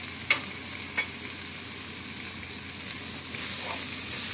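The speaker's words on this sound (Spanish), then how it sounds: "Pero nomás ahorita que se sofría el tomate." Tomatoes frying in a pan, a soft steady sizzle with a couple of sharp clinks of a utensil near the start and light stirring sounds, fairly quiet and without talk.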